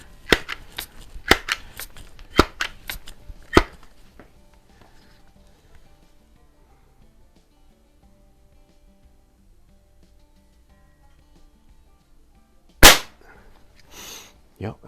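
A Sheridan Blue Streak .20 caliber multi-pump air rifle fires a quick series of sharp snapping shots, then goes quiet before another loud crack near the end, with faint clicks between.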